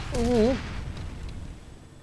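Explosions and gunfire from the first-person shooter F.E.A.R. give a loud, low rumbling boom that slowly fades, with a player's voice over the start.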